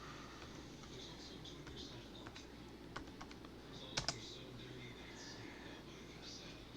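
A computer keyboard is typed on while entering a terminal command on Endeavour OS. The keystrokes come as sparse, faint, close clicks, with a couple of sharper taps near the end and a quiet voice underneath.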